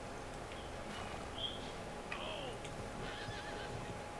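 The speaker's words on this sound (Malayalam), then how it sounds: "ഞാൻ നമ്മുടെ കുതിരേനെ ഇവിടെ നിന്ന് പറഞ്ഞു വിടാം." A horse in a video game gives a couple of shrill, quavering neighs over a faint rustling ambience, with soft hoof clops and the odd bird chirp. The scene is quiet and distant-sounding, with no talk.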